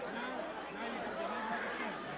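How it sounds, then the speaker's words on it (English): A boxing arena crowd just after a knockout at a world middleweight title fight, a continuous low murmur of stunned chatter and babble, steady and fairly quiet. "And this crowd is standing stunned."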